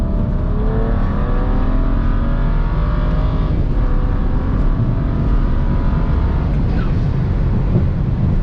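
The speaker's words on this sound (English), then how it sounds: "I'm gonna do a 60 third gear pull because that's what this thing eats at." A stage 2 BMW 335i running E85 at 22 psi accelerates hard in a third-gear pull, heard from inside the car as a loud, dense, continuous engine roar with rising pitch throughout.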